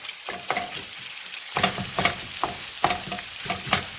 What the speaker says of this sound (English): So as you're getting it in the pan, keep chopping it up.